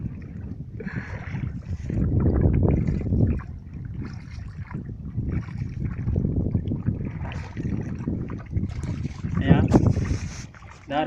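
A small boat travelling on water, with a low churning rumble and wind buffeting the microphone that rise and fall across the ride, and voices talking intermittently over it.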